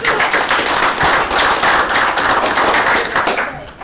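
Applause at a committee meeting, close and loud clapping with distinct individual hand strikes standing out in a fast, dense rhythm that holds steady before fading near the end.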